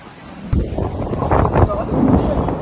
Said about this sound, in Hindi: जबरदस्त किस्म की जो है वो बारिश हो रही है